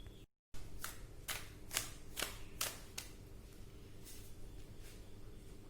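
Tarot cards are shuffled close by in a quiet room, producing a series of about nine soft, crisp riffling bursts at a fairly steady rhythm, with no talking.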